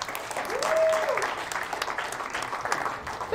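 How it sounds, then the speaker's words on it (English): An audience applauds a helper called up on stage, a brief burst of clapping with a few voices over it, lasting a few seconds. "everybody give Tony a round of applause"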